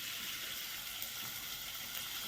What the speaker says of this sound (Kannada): ಈರುಳ್ಳಿನ ಫ್ರೈ ಮಾಡ್ಕೊಳ್ಳಿ.